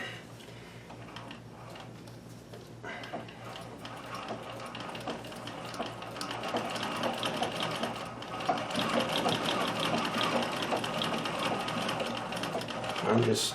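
Singer Circular Stitcher 161847 sewing machine running at a rapid, steady mechanical clatter, growing louder and busier partway through, while a person speaks briefly near the start.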